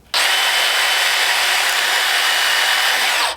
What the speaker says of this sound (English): So we're going to go ahead and drill this guy out